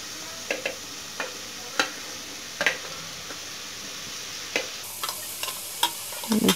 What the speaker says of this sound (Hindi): और अब इसको अच्छे से फ्राई करेंगे। ये देखो मसाला, अब ये मशरूम डालने लगी हूँ।